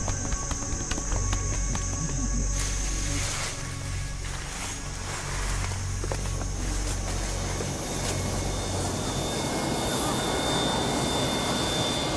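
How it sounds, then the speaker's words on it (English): Jet aircraft engine roaring on an early morning flight into Goma International Airport, a broad continuous rumble that swells and shifts over several seconds with faint insect chirps. "Goma International Airport. An early morning flight from Kinshasa."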